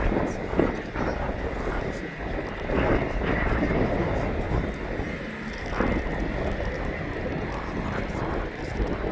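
A steady roar of aircraft engines at Manchester Airport, constant and fairly distant, with a faint murmur of voices underneath.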